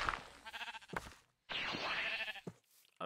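Sheep bleating in Minecraft, with two loud, drawn-out bleats close by and a short pause between them.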